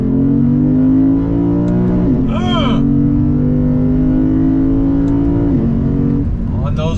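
A 2022 Lexus IS 500 V8 sport sedan roars loudly as it accelerates hard, pitch climbing through gear changes, heard from inside the cabin with a voice briefly over it.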